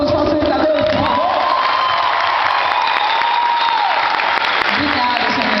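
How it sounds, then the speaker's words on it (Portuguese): A crowd applauds facilitators at a community event in Brazil, loud sustained clapping with cheers and whoops, while a voice carries on over the noise. "Palmas para todos os facilitadores,"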